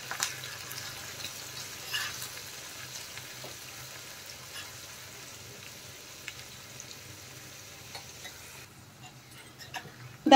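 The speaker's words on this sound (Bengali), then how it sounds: "ফোড়ন ভালো করে একটু ভেজে নেব।" A spice tempering with curry leaves and asafoetida fries in hot oil for sambar dal, a faint continuous sizzle with occasional light crackles and stirring clicks, quiet and close.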